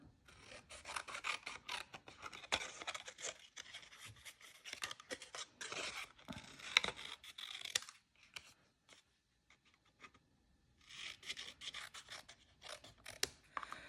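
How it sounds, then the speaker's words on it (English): Scissors cut through card along score lines on both sides and across the bottom for a St. Patrick's gnome craft, a steady run of close rasping snips that pauses briefly before resuming. "now we can go ahead and cut along the score lines on both sides and along the bottom"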